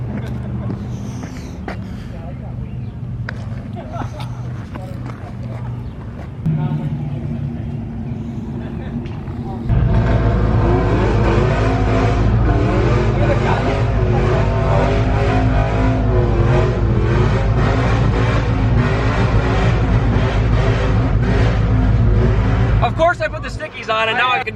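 A car does a burnout on radial tires until one pops, the engine droning steadily before climbing into a loud, sustained howl of revving and tire squeal that cuts off near the end, with people talking over the early part.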